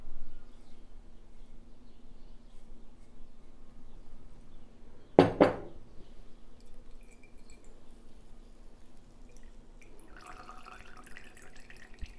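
A glass jar and metal strainer clink sharply once in a short cluster of ringing knocks while oil is strained through layered gauze, followed by faint trickling; otherwise a quiet room hum.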